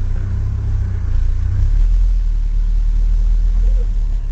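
A manual transmission car in a parking lot pulls away as gas and clutch are worked together, its engine a close, low, steady rumble that deepens and grows slightly louder partway through.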